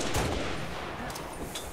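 Gunfire and explosive weapon blasts in a Halo Reach big-team battle with tanks, dense and continuous over the whole stretch, loud and busy with no clear speech.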